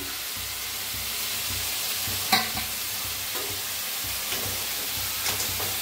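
Dill greens stirred in a pan, a steady soft sizzle with scraping strokes and one sharper clink of the spatula partway through.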